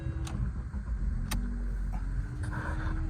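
A 2011 Ford Focus engine settles into a steady low idle after starting, with a few faint clicks and ticks over the even hum, heard close with no talking.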